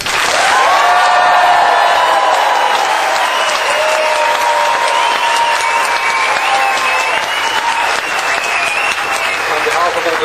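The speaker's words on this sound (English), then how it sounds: "I'm sure the audience here would like to give you a huge round of applause." Loud, sustained applause from a large audience at the World Scout Jamboree honoring an astronaut, steady clapping with some cheering and crowd voices mixed in, filling the whole stretch without letting up.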